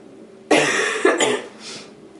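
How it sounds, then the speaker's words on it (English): A person who has been sick has a coughing fit, with several harsh, close coughs in quick succession and a fainter one trailing off. "And I've been having cough attacks"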